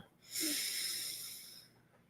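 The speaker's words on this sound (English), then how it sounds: "Inhale, super deep" A long, deep inhale drawn in steadily through the nose and mouth, rising quickly and holding for more than a second before tapering off, with faint airy wheeze and no talking.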